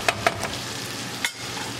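Aloo methi, potatoes with fenugreek leaves, being stirred in a pan over medium heat, with a few sharp spatula scrapes against the pan over a soft, steady sizzle.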